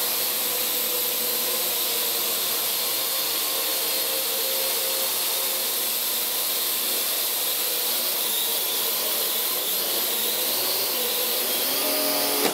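Parrot AR.Drone quadcopter flying indoors near a Christmas tree and climbing, a constant loud high-pitched whirring hiss of spinning rotors close by, steady throughout with no voices.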